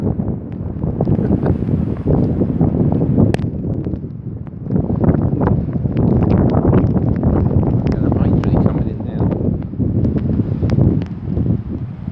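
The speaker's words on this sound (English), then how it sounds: "Look how windy it is." Strong, gusty wind batters the microphone on a coastal foreshore walk around Hilsea Lines, a constant rough roar that swells and dips, with a voice speaking faintly underneath.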